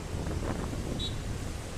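Cold wind on a Jakarta street buffets the microphone as a steady, dense outdoor roar that carries on without a break and has no speech.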